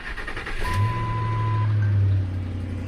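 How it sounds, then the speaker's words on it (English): A high-mileage pickup truck is started cold: a brief cranking whir, then the engine catches and rises to a loud, steady rumble up close, with a thin tone sounding through the start. "put the key in it, crank her up"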